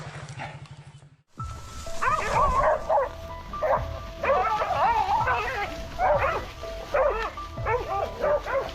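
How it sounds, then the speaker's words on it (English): A hunting dog at a wild boar hunt yips and barks eagerly in repeated bursts, near and loud, with whimpering mixed in and some human voices. "Our hunting dog led us straight to the target, hidden deep in the tall reeds."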